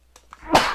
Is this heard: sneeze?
yes